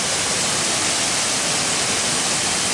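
A waterfall in the Australian outback roars as a dense, unbroken rush of falling water, loud and close, steady for the whole stretch with no voices.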